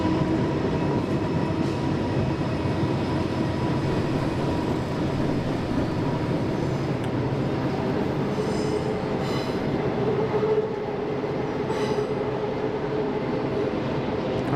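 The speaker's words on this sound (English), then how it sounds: "In just the 2 hours I've been here filming this morning, there's already been 4 trains go past." A Norfolk Southern train rolls over the Popelic railway trestle near Louisville, a loud, continuous rumble of wheels and cars with intermittent high wheel squeal, steady for the whole stretch with no voices.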